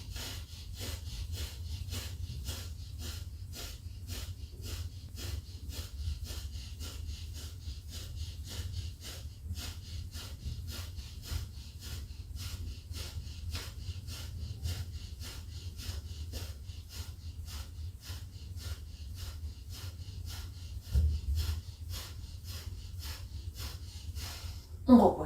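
A yoga pranayama breathing exercise with about 45 rapid, forceful breaths in a steady fast rhythm, each a sharp nasal huff, close and continuous for the whole stretch.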